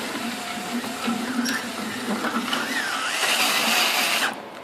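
The auger of a charcoal gasifier grinds carbon with a harsh, continuous rasping and whirring that grows louder and brighter toward the end before cutting off, close by, with no voices.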